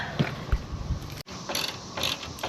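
A bolt on a skid plate of a 2.5-generation Toyota Tundra is tightened down, with quick mechanical ratcheting clicks and creaks close by, interrupted by a short pause midway.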